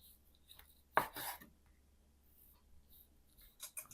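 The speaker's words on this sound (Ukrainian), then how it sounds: "шинку тоненько нарізаємо" A knife makes one sharp cut, then a short scrape, as ham is sliced thinly on a board. Soft, faint board taps follow in an otherwise quiet kitchen.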